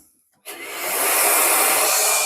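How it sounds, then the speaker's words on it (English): A workshop vacuum cleaner switches on after a brief silence, its motor spinning up into a loud, steady, hissing whine that holds at full strength. "I'm going to turn on the vacuum cleaner"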